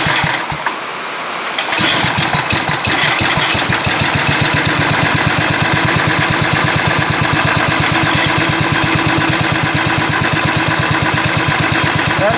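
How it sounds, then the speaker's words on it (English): An 8-horsepower go-kart engine, choked about three-quarters, catches after a brief quiet start and settles into a loud, steady idle with a rapid, even chugging pulse that runs uninterrupted to the end. "manually choked about 3/4, and that's our idle"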